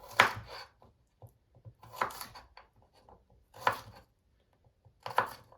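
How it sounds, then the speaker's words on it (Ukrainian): A kitchen knife slices garlic cloves on a board for marinated cabbage: four separate, crisp cutting bursts spaced roughly two seconds apart, close and clear, with quiet gaps between. "цей часник ми нарізаємо довільно на будь-які шматочки"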